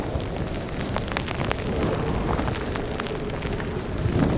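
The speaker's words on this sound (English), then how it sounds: "The wind and the rain are just coming across this field here." Wind and rain sweep across an open field by the sea, a dense, steady roar with rain pattering throughout and no voices.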